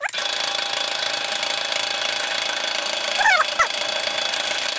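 An electric drill bores a hole through a front fork dropout of a KhVZ Start Shosse road bicycle. A steady, close mechanical whine runs throughout, with a couple of brief high chirps near the end.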